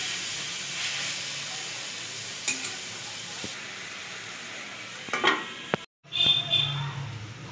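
Chicken chowmein cooks in a pan on a gas stove, with a quiet steady sizzle and hiss, a few scattered utensil knocks, and a sudden brief cut before a louder burst of steamy frying.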